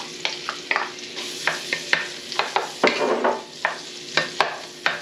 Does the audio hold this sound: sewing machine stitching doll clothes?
no